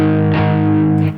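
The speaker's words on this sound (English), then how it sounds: "The next one is an octave up, which is my Whammy preset." Electric guitar run through a Whammy pedal set to an octave-up preset, a single loud sustained note with a bright, slightly synthetic doubled tone and a brief pitch bend, heard alone and close.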